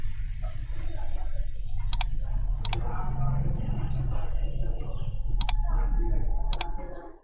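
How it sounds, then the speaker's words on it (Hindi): A computer mouse button clicks while Ctrl is held to select desktop wallpaper images: four sharp, isolated clicks spaced a second or more apart, heard over a steady low background hum with faint voices. "इस पर कंट्रोल के साथ माउस क्लिक करते जाइए"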